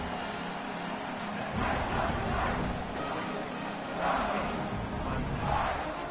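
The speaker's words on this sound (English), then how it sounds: "this crowd is feeling themselves after that last drive." Stadium crowd in a college football video game, Clemson vs Oregon, after a touchdown drive: a broad, steady roar of cheering that swells in a few waves, moderately loud and heard from a distance.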